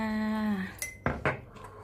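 Metal spoon clinks against a dish as chili and fish sauce go into a Thai mixed-vegetable gravy noodle dish, a few sharp close taps after a brief tonal hum, fairly loud with no talking.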